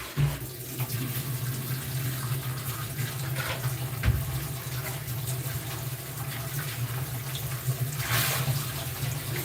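Tap water running steadily into a sink during rinsing, a continuous close splashing hiss with a low hum underneath and a couple of small clunks.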